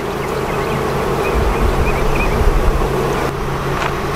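Honeybees in an open hive during an inspection, with pollen-laden workers and a light smoking. A steady, close, dense hum fills the whole stretch with no talk over it.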